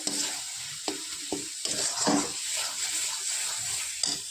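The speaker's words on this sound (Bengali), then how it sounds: "সামান্য পরিমাণ একটু জল দিয়ে ভালো করে কষিয়ে নেব।" Jackfruit and prawns stir-fried in a pan, with soft sizzling under irregular scraping and stirring strokes, a few sharper clinks of the utensil against the pan, close and moderately loud.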